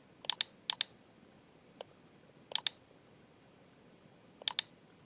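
Crisp computer mouse clicks heard alone in a quiet room, arriving in quick pairs and singles spread across the moment, close and fairly soft.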